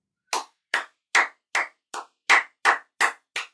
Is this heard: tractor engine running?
no